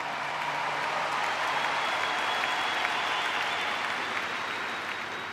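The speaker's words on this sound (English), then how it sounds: "This is a big crowd." A big crowd at a memorial service applauds loudly and steadily, a dense wash of clapping that holds for several seconds.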